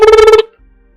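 A telephone rings with one loud, warbling electronic burst that cuts off sharply, leaving near silence with a faint low hum.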